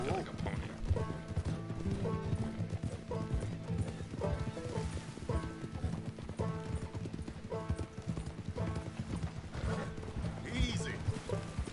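Horse hooves clip-clop steadily in Red Dead Redemption 2, a quick rhythmic trot of hoofbeats with creaking tack, continuous at close range alongside game background sound.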